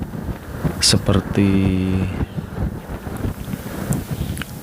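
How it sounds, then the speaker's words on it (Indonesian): Strong wind off the South Sea buffeting a microphone while riding a motorbike toward Cilacap, a continuous rushing roar under someone talking, with a brief tonal hum partway through. "Jadi angin dari Laut Selatan itu cukup keras ke arah utara"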